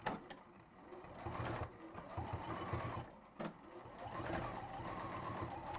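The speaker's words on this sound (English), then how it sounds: "on the machine, just machine sew along the line" A sewing machine stitching along a tacked line in a sewing project, running in steady whirring bursts with short pauses between them, close and fairly loud, with faint talk in the background.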